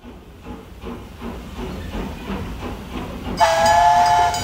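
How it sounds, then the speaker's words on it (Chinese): A steam train rolls along with a rhythmic chugging clatter, then a sharp, sustained steam whistle blows loudly near the end, set within a recited children's poem. "火车"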